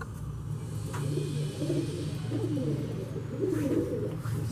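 Breeder pigeons coo in a steady, low murmuring run that carries on throughout, fairly close, with a faint hum of background noise beneath.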